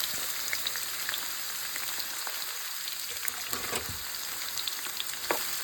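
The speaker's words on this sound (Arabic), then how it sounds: "هحط دلوقتي البصل اهو اهو" Onions frying in a pan, a steady crackling sizzle with scattered small pops and a few stirring sounds, close and alone without speech.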